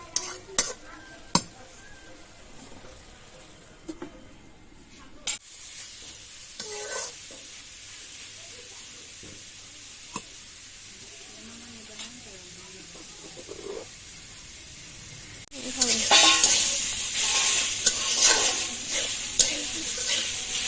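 Sliced radish stir-fried in a pan, with metal utensil scrapes and clinks against the pan over a low sizzle that grows into a loud, hissing fry toward the end, close by.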